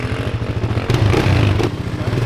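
A dirt bike engine revs up sharply as the rider opens the throttle, a loud rough buzzing that jumps in pitch partway through and then holds, close by with faint clatter.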